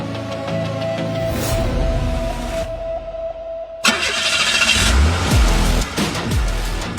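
A car engine runs on a car with failed brakes, a steady hum that cuts out briefly and then returns louder with a burst of revving and low rumbles, close and prominent.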